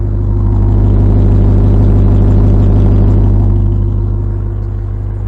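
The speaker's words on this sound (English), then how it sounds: "I'm going to get my mic close to this exhaust so you can hear it" A 2022 Ram TRX pickup truck's loud, deep exhaust rumbles steadily up close, a heavy low idle holding throughout with no talking.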